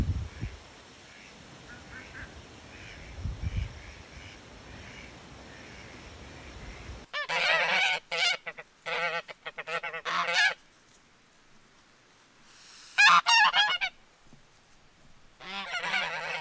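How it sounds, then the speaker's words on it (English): Geese honk loudly and repeatedly in bursts, close by, with quieter background noise and some rustling between the calls. "So pleased to see the geese able to get along with the ducks."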